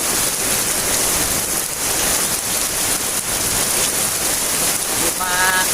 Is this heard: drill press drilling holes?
no